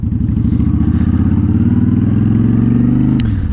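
Steady, loud rumbling drone of a Honda Shadow Spirit 750 motorcycle underway, a dense engine note with wind noise that holds even and then dips slightly near the end.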